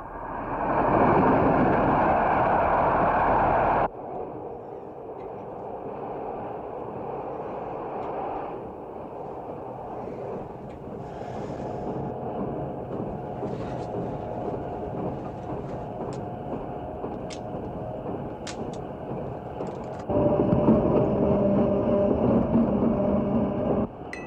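A train travels on rails during a long journey, a continuous rumbling roll with faint rhythmic clatter, louder at the start and end, steady and close as from inside a carriage.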